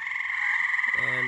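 Tree frogs croaking near a backyard pond and pool at night, a loud, close, continuous pulsing trill that stays steady throughout with no other sounds.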